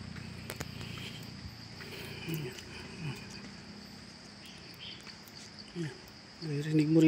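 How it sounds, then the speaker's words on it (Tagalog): Birds and crickets on a mountainside in Calaca, Batangas: a steady, high cricket drone runs throughout, with scattered faint bird calls, low rustling and soft movement noises close by. "Naririnig mo rito, ibon, kuliglig,"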